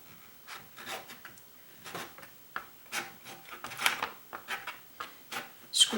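A tool scrapes into wet watercolor paint on paper to form rocks, a run of short dry scratchy strokes in an uneven rhythm, close and fairly quiet, with no talk.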